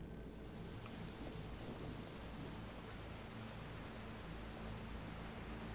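Thunderstorm with rain in the horror game Pineview Drive: a steady, dense hiss of rainfall with a low rumbling underlayer, constant and even throughout, no voices.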